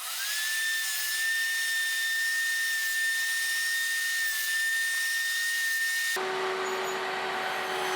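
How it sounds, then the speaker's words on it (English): A woodworking machine saws a revolving groove into wooden desk buttons. A steady, high-pitched whine holds for about six seconds, then the tone abruptly shifts to a rougher, broader cutting noise. "First I saw a revolving groove into the buttons."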